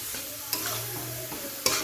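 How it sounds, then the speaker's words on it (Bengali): Banana flower frying with spices in a pan, stirred now and then, giving a steady close sizzle broken by two sharp scrapes of the spoon against the pan, with no voices. "এবার মোচাটা দিয়ে ভালো করে মশলা দিয়ে কষাবো"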